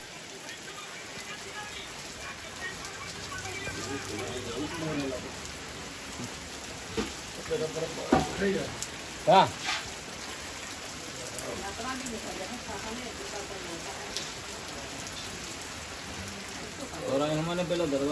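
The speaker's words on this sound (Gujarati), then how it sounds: "તો મિત્રો વરસાદ આગળ આવી ગયો છે" Unseasonal rain falls on a farm field at groundnut-harvest time, a steady soft patter with occasional louder drops and bumps, while someone talks briefly over it.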